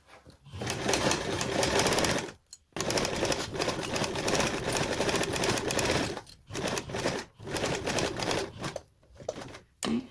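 A sewing machine runs a tote bag seam in long bursts of fast, even needle clatter, pausing briefly now and then before resuming close by.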